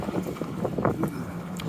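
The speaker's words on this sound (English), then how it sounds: "I got the wind at my back right now." Wind gusting along a cold winter city street in Halifax, a steady broadband rush with low buffeting rumble against the microphone and a few brief louder gusts, no voices.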